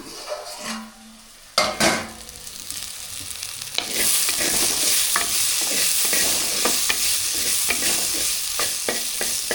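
Jackfruit stir-fry (poriyal) being stirred and sautéed in a pan, with a steady sizzle and repeated scraping clinks of a utensil against the pan, close and fairly loud, no talking.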